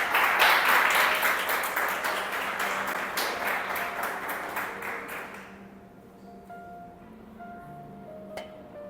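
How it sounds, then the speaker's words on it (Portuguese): A church congregation applauds, a dense burst of clapping that thins into scattered individual claps and fades out, leaving a quieter room with faint stray sounds. "Você pode aplaudir a Jesus esta noite."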